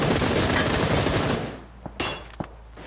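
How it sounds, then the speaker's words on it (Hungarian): A loud burst of automatic gunfire comes from a car in an Xbox racing game, then fades out, followed by a few sharp single shots. "És egy ilyen gyönyörű szép autóból átülős lövést láthattunk Krisztiántól"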